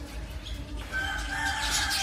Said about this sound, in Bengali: খুব সুন্দর পাখির শব্দ